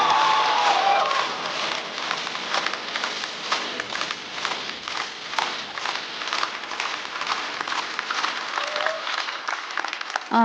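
A studio audience at a stand-up comedy show applauds a comedian walking on stage, a dense sustained clapping from many hands that holds steady throughout.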